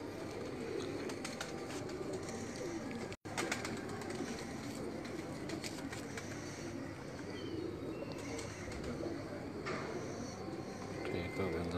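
Pigeons coo softly amid a dense, steady wash of background noise, with faint rustling throughout.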